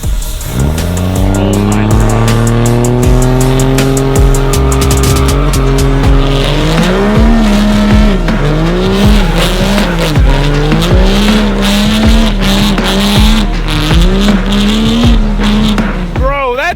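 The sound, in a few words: 1,000 horsepower drift truck skidding with tire squeal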